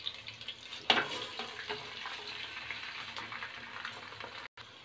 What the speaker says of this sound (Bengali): এখন আমি পোলাও চালটা দিয়ে দিচ্ছি।